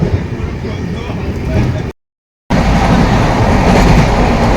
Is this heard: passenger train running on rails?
yes